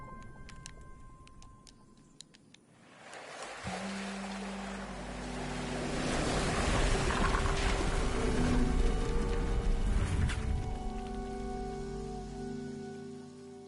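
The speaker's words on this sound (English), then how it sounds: "Of course you fall into water." In the video game Harmony: The Fall of Reverie, a character plunges into water, a rushing splash and bubbling swell that builds and holds over a low drone before easing off.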